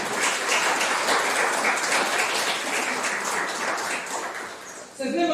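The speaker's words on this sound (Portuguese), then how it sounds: "Pode aplaudir, irmão. Pode aplaudir mesmo." A church congregation applauds together in a dense, steady wash of clapping that runs several seconds, thinning slightly near the end as a voice cuts in.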